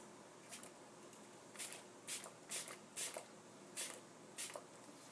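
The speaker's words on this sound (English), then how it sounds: "I spray my face" MAC Fix Plus setting spray misted onto a face in several short, soft hissing bursts, close and quiet, spaced irregularly across a few seconds with no talking.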